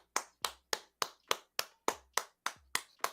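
Eleven crisp hand claps in a steady, evenly spaced rhythm, close and clear against silence, from people clapping during a live stream.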